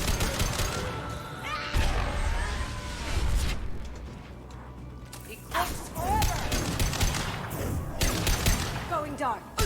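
Bursts of fire from the fun gun in Mass Effect 2, with heavy thuds, crashes and scattered shots mixed with game effects, while people talk over the action.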